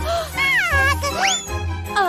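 A cartoon cat gives a few expressive, sliding meows in a children's animation, with a light jingle in the background.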